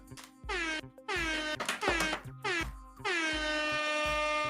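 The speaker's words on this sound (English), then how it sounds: "let me know if you hear the air horn real quick" Loud, blaring air horn blasts, several long honks in a row with short gaps between them, close and harmonically rich.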